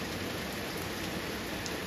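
Steady rain falls around a porch at night, a dense, even hiss of drops on surfaces, continuous and moderately close with no voices.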